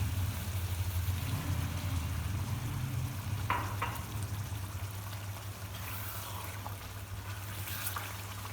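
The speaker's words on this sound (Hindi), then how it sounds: "गोश्त को ऑयल में तकरीबन 3-4 मिनट के लिए भून लेंगे।" Mutton for Punjabi-style karahi fries in a cup of oil in a pan, a steady close sizzle and hiss with a low hum beneath and a few brief stirring scrapes.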